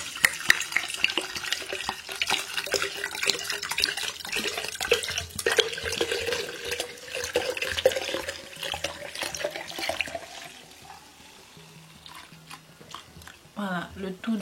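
Rum poured from a bottle over avocado into a jar to macerate, a steady liquid trickle running for about ten seconds, fairly close, with a voice speaking over it before the flow fades.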